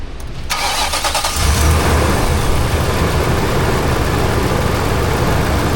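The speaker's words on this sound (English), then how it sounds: "Beginning engine starting sequence now." Engine of an Infiniti QX56 SUV cranking and catching, then settling into a steady, fairly loud idle that runs on without talk.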